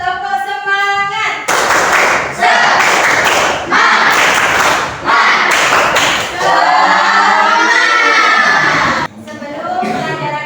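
A school class performs the rhythmic 'tepuk semangat' clapping chant, loud bursts of patterned claps and children's voices chanting in repeated phrases, close and energetic, with a teacher's voice speaking around them.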